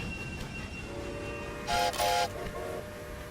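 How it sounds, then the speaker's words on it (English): A train in the Railway Empire video game sounds two short horn or whistle blasts near the end, set over a steady rumbling rail ambience with no talking. "This train needs to be cloned."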